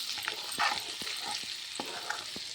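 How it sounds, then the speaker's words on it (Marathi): Chili powder, turmeric and garam masala sautéing in a pan over low heat, a steady soft sizzle with repeated scraping stirs of a spoon, close and alone without talk. "कमी पॉवरवर हे परतून घ्यायचं आहे. तिखट, हळद आणि गरम मसाला परतून घ्यायचं आहे."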